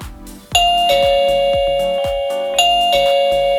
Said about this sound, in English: you can see obviously the chime's set up and working now